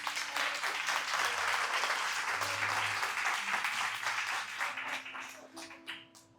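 Sustained audience applause fills a church gathering during a Christmas triduum service, dense and steady, then thins and fades near the end as a voice begins faintly.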